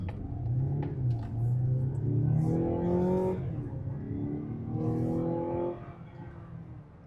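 Engine of a 2025 Mazda CX-90 PHEV Premium Plus SUV, plug-in hybrid, accelerating hard in sport mode onto a road: a loud, steady rising drone with climbing revs that dips briefly near the end, with no talk.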